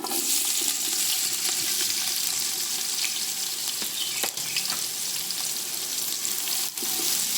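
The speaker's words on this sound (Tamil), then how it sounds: "வெங்காயம் வந்து நல்ல பொன்னிறமாக வதங்கணும்." Sliced big onions frying in oil with whole spices for a ghee chicken biryani, a loud, steady, continuous sizzle with occasional faint clicks of stirring, close up and without talking.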